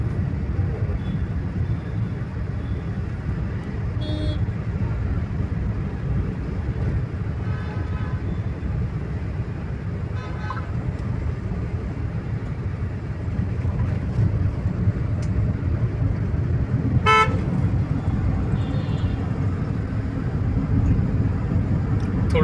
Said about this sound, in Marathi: थोडंसं काम चालू त्यामुळे थोडंसं ट्रॅफिक आहे, म्हणजे जास्त नाही आहे पण आहे, चालू आहे. पण मुव्हिंग ट्रॅफिक आहे.